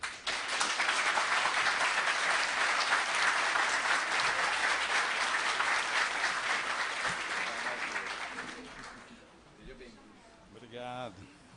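A lecture audience applauds warmly as a speaker is welcomed, dense sustained clapping for about nine seconds that fades out, followed by a voice beginning to speak.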